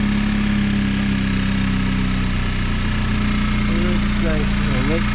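A Honda Civic Type R FK8 engine idles steadily up close during work on its coolant expansion tank, a constant hum with brief faint voices over it near the end.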